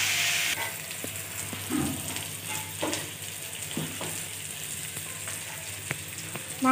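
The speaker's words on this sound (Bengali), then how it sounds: "মাংসটা ততক্ষণ ভাজবো যতক্ষণ না এটা থেকে তেলটা ছেড়ে দিচ্ছি" Mutton pieces frying in oil for ghugni, giving a steady close sizzle and crackle throughout, with occasional spoon scrapes and stirring clicks and no voices.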